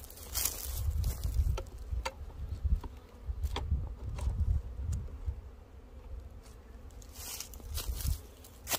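Honeybees hum and buzz continuously around a hive colony that is open to robbing, a steady close swarm drone with scattered louder passes and light knocks, with no talking.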